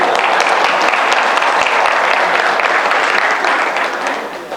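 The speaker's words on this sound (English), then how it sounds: "You can very, very, very happily clap so that I get energy more." A dense burst of audience applause at a motivational speech event fills the hall steadily, then begins to fade near the end.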